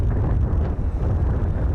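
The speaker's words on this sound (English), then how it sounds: "That is the sound of the wind heading up Pikes Peak." Strong wind on Pikes Peak roars steadily into the microphone, a loud, low, continuous buffeting rumble with no pauses.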